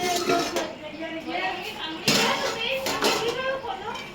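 A lid comes off a pot of tilapia curry cooking on a gas stove, giving one short metallic clank midway while a person talks throughout.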